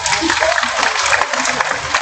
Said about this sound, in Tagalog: Bigyan na po naman natin ng masagalang malakas na palakpak ang SLO.